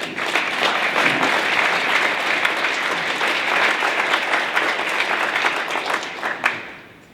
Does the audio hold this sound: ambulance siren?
no